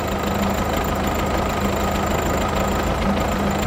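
An MTZ-80 tractor engine runs close by, a loud, steady diesel chugging with a knocking rhythm that continues without pause.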